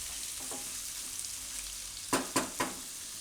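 Vegetables for jowar pulao sizzle and fry softly in a pan, with a few sharp scrapes of a spoon stirring them near the end.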